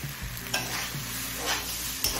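Mixed vegetables and eggplant fry in a pan for a Bengali kochu shak labra, giving a steady close sizzle with a few soft scraping stirs. No voices are heard.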